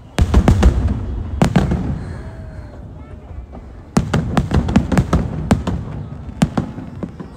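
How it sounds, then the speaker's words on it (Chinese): Fireworks explode overhead in quick clusters of sharp, loud bangs and crackling bursts, with short gaps between volleys and a steady background murmur of onlookers. "看完烟花回家。"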